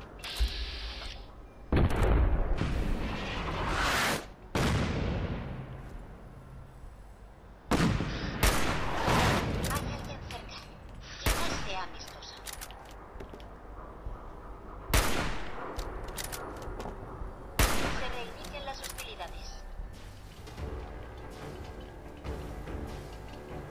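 Repeated gunfire and heavy explosions in Fallout 4, with sharp loud blasts and bursts of shots scattered irregularly across a rumbling battle, some booms close and others more distant.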